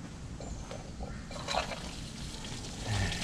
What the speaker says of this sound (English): since we got the bulb primed, we'll go ahead and get the water turned on